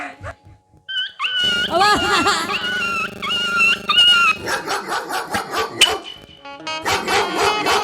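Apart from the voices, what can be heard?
dog barking and whimpering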